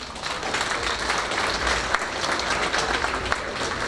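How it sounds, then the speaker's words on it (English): A large audience gives a steady round of applause at the launch of a university college campus in Penang, with dense, continuous clapping held at an even level throughout. "let us give a big round of applause"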